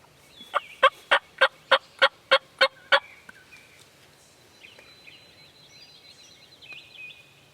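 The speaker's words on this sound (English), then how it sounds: "You hear me? The hen's getting closer." A wild turkey hen on Tennessee public land gives a run of nine sharp, evenly spaced yelps, loud and close, followed by softer, thinner calls trailing off.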